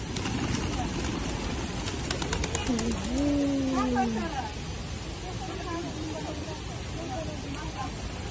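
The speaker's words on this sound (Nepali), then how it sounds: "छाप्दीवराको परेवा हो" Pigeons coo at Chhabdi Barahi temple, one clear near coo rising out of steady outdoor background noise with a few faint chirps, and a voice talks at points.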